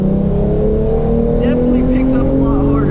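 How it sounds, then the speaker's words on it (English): A tuned Genesis Coupe 3.8, running in sport mode with traction control off, drones loudly and steadily under full throttle from about 40 mph, its engine tone holding a strong, even roar from close inside the cabin. "I'm gonna do a 40 roll in sport mode this time with traction off once again"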